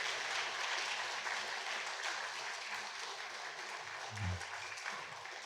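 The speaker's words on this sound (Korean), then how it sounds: "우리 수료증과 선물을 드릴 때 박수로 축하해 주시기 바랍니다" Applause from a church congregation at a Sunday service in Yongin, congratulating graduates as they receive course certificates and gifts; a steady, dense patter of many hands clapping that fills the room for several seconds.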